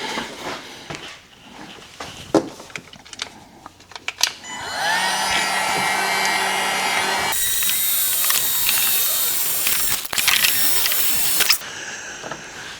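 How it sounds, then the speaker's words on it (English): A heat gun blows on a panel of a C8 Corvette in a garage, a steady close whooshing roar that runs for several seconds, shifts in tone midway, then cuts off amid scattered clicks and handling noises. "just gotta get the heat gun now, apply some heat to this panel"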